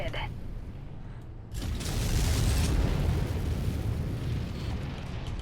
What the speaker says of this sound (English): Enemy reactor breach detected.